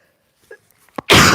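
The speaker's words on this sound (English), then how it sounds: "I'm going to sneeze, y'all." A single sharp sneeze bursts out near the end after a few soft breaths and small sounds, loud and close, breaking into a noisy explosive rush.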